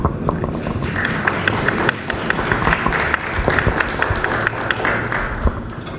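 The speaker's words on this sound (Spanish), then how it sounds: "Y también pedimos un aplauso para Raquel Castro, quien nos acompaña en esta presentación" Applause from the audience at a book presentation at the FIL Minería book fair, with many hands clapping in a dense, steady patter for about six seconds, a brief dip partway through and a few sharper claps above the crowd.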